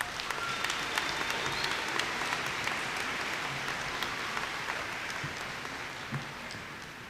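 Sustained applause from a commencement audience for graduating students, a dense, fairly distant patter of many hands clapping that stays even and fades slightly at the end.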